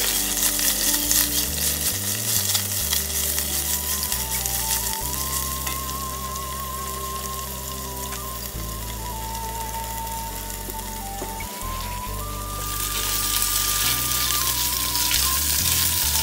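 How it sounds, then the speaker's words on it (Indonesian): Ginger and black pepper sauté in a hot pan, a loud, continuous close-up sizzle with a crackling, rain-like texture that swells again toward the end, under a faint background hum and with no talking. "Terus ini si jahe sama black peppernya. Kita tumis sampai dia wangi."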